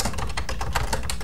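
Fingers type on a computer keyboard in Microsoft Word, a quick run of close, crisp key clicks in an even rhythm.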